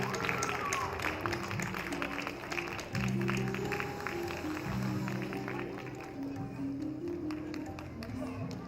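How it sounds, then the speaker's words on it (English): Moderate applause from a small gathering for children at an ICBF Day 2024 event, fairly quiet and uneven, with some tapping and a low hum beneath the clapping. "give them a big round of applause"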